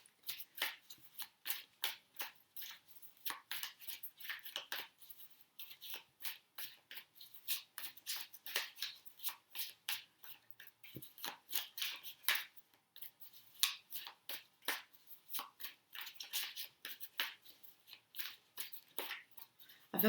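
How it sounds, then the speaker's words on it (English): Tarot cards are shuffled by hand close up in a quiet room, a long run of soft, rapid riffling and flicking bursts with no voices. "There is no right or wrong way to shuffle your cards."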